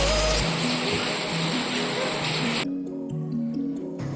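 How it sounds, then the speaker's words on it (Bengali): Heavy rain falls outside at night, a dense steady hiss that stays fairly loud throughout, with a brief low thump at the start and no voices. "বাইরে ভীষণ বৃষ্টি পড়ছে"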